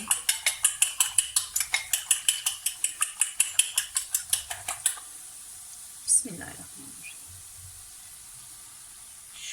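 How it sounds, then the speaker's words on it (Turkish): Eggs seasoned with salt are whisked briskly in a bowl: a fast, even run of clicking strokes for about five seconds, then a single clink and a quieter stretch with faint kitchen noise. "Şimdi yumurtasını da çırpıp üstüne ekleyebiliriz."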